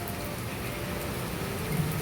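Heavy rain pours steadily in a dense, even hiss with no breaks, fairly soft and distant-sounding and with no voices over it.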